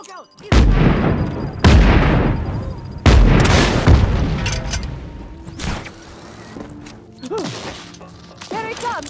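Grenades explode in the Fortnite video game, three loud booms in quick succession with echoing tails, followed by fainter thuds and game sound effects, while a voice talks over them.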